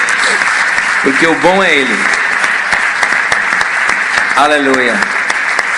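A church congregation applauds steadily and loudly throughout, with someone speaking over the clapping as sustained cheering tones rise and fall.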